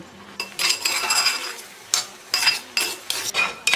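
Pineapple pachadi stirred in a pan to dry it out, a ladle scraping and clinking against the metal in irregular bursts, close and clear over a faint sizzle with no voices.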